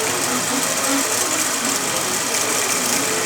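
An Intelliquilter computerized quilting machine runs steadily at close range, giving a continuous mechanical whir and motor hum with a fast, even stitching rhythm throughout.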